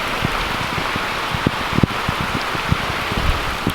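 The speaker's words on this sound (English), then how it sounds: "so yeah, it's downpouring." Heavy rain pours down on a small farm garden, a dense steady hiss with scattered close drops pattering on nearby surfaces, loud and continuous without any voices.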